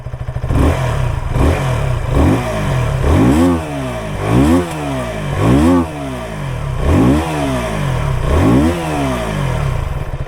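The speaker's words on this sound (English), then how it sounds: "The engine refinement can be heard in the exhaust note itself. Let me just give a bit of a throttle." A KTM Duke 160 motorcycle engine is revved repeatedly with the throttle, loud and close, each blip rising and falling in a regular pattern of about seven surges over a steady idle, with no talk.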